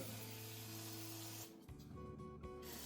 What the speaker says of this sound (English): So just spray in there like that.